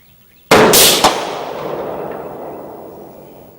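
A single sharp rifle shot fired at a 200-yard target through a 12-power scope cracks loudly up close, then a long echo rolls away and slowly fades.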